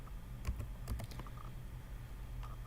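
Keys tap on a computer keyboard while an Excel formula is entered, a few quiet clustered clicks at close range over a low hum.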